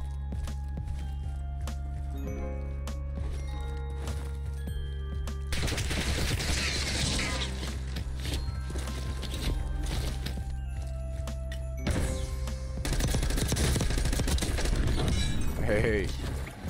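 Rapid bursts of gunfire crackle through a Black Ops 6 Warzone match, loud bursts in two extended volleys with a steady game background between them.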